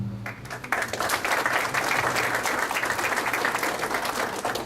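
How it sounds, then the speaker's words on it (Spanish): Loud applause from the audience at a lecture on preventive detention follows an introduction, a dense, sustained roar of clapping that starts abruptly and holds steady to the end. "Fuertes aplausos"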